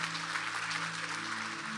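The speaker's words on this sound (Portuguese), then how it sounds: "Uma salva de palmas, 11 anos de casado" A church congregation applauds a couple married eleven years: dense, continuous clapping from a crowd, broad and even, with a steady low hum running underneath and no voices on top.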